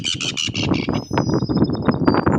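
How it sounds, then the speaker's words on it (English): Loud, close calls of a red-billed tropicbird: a series of harsh, rising screeches repeated in quick succession, with a thin whistle trailing above. "Red-billed tropic bird."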